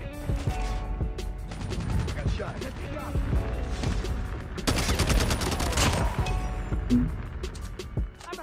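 A DR-H rifle fires in COD Mobile during a ranked match, with repeated loud bursts and scattered shots throughout and a dense, heavy volley midway, mixed with in-game noise.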